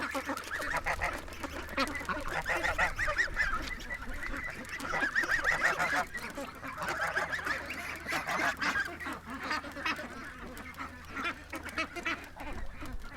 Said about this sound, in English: Oh, geese, eh? You gotta chew on everything.